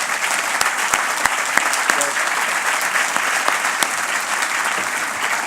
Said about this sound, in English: Another round of applause for all these people.